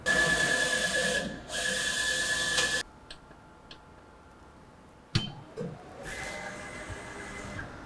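An eco-solvent printer runs on decal material with a steady hissing whir that stops abruptly partway through. A few clicks and ticks follow in the quieter stretch, then the mechanism starts up again.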